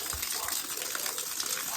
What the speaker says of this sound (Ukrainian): А зараз треба заливати водою.